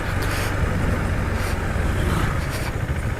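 A KTM Duke 250 or 390 BS6 motorcycle accelerates in gear on a night ride, its engine a steady, loud, close drone with no talking.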